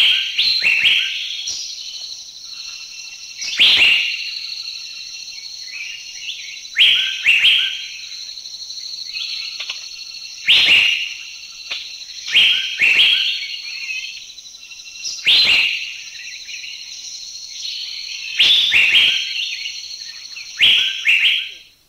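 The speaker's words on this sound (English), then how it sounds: "Number 39, the Asian fairy bluebird." Asian fairy bluebird in Thailand gives repeated bright, liquid whistled calls in short bursts every few seconds. The calls are loud and close over a steady high insect drone.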